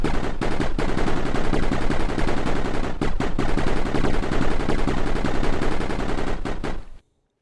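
Turret gunfire in Mindustry pours out as a dense, continuous rapid-fire burst, loud and steady for about seven seconds before cutting off abruptly, with no talking over it.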